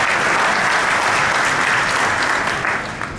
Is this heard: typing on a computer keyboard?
no